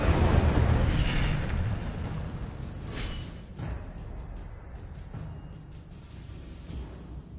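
An Incendio fire spell in a Hogwarts video game erupts in a loud roaring burst that dies away over several seconds, with a few softer crackling flares trailing off as it fades.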